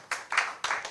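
An audience claps for Nigerian youths at a political app launch event, three bursts of fairly close applause with brief gaps between them, no voices over it.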